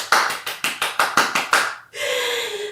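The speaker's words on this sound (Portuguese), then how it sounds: "E quem gostou da história pode bater palmas." Eight sharp, evenly spaced claps ring out close and loud from a small school audience celebrating a children's story at a 6th-grade literary event, then stop abruptly as a brief higher-pitched tone or voice follows.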